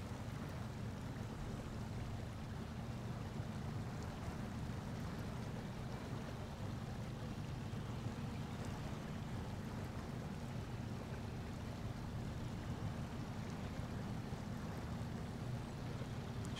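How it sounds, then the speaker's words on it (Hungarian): A truck in the Snowrunner video game fords a river, with steady rushing water and a low engine rumble running continuously and fairly loud throughout, with no talking. "Vágjunk át a folyón. Kicsit tol a víz,"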